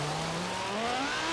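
Engine of a Lamborghini Sesto Elemento in Forza Horizon 3 rises steadily in pitch as the car slides on gravel, loud and continuous with no talking.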